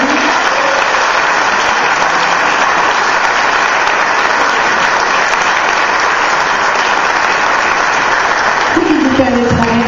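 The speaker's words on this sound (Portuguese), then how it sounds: "Salve palmas para Jesus mesmo." A church congregation claps loudly and steadily throughout, with a voice speaking near the end.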